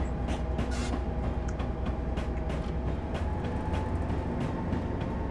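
An EMD F unit diesel locomotive from the 1970s in a Train Simulator game rumbles steadily, with a low engine drone under rolling rail noise and light clicking, heard alone without speech.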